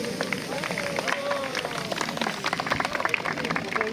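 Audience clapping at a fire station open day, a steady spread of many hands applauding together at moderate loudness, with a few voices mixed in.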